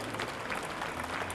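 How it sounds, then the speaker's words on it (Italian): Outdoor crowd applause at a lakeside air show, a broad, even wash of clapping from many spectators, soft and distant, continuing for the whole short stretch. "fate un grande applauso a questa"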